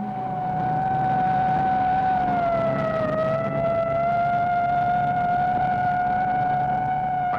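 A fire truck siren wails loudly and continuously with a slowly wavering pitch, close by, over a low engine rumble.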